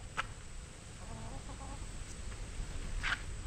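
Soft clucking from a chicken amid steady outdoor noise, with a couple of brief sharp clicks.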